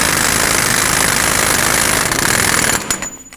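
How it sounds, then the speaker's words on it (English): Pneumatic impact wrench rattling continuously as it snugs a front hub nut on a 1997-2003 Ford F-150, a loud rapid hammering burst that stops near the end with a few brief trailing clacks. "I'm going to use my air gun to snug it up because it'll be way faster"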